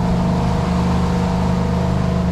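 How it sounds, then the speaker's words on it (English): Detroit 2671 diesel engines aboard a Hatteras yacht run on flat open water, a loud, close, continuous droning roar with a strong steady hum and no breaks. "Very unique sounding engines. They call these Screaming Jimmies."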